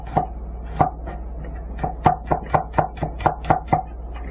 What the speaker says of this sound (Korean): 마늘은 편 썰고